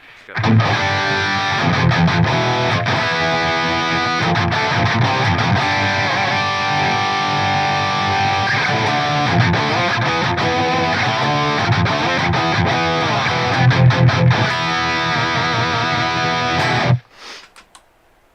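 A distorted electric guitar, driven by an overdrive pedal into a Plexi 50W amp model with 6550 tubes, plays loud, continuous riffs and chords for a long stretch, then cuts off abruptly near the end.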